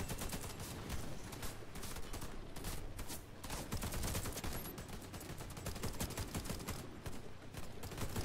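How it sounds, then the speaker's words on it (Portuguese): Dense, rapid automatic gunfire from a Warface online shooter match on the Cold Peak map, loud and nearly continuous with overlapping bursts throughout and no speech. "Olha lá, eles vão atirando."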